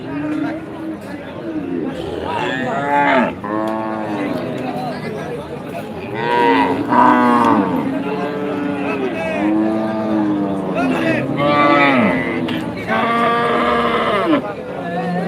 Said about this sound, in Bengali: এখনও প্রচুর গরু রয়েছে